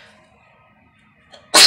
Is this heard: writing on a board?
no